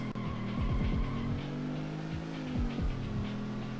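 A loud, continuous race car engine roar from the video game Rush 2, like a Top Fuel dragster, with repeated rising revs and gear shifts, steady and close, no voices.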